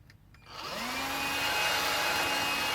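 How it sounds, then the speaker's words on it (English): An Electrolux Lithium 2-in-1 battery powered vacuum switches on, its motor spinning up within half a second into a steady, close whine that holds level to the end, with no talking. "So I got myself a battery powered vacuum."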